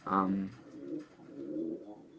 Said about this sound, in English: I'm sorry, that's my bird.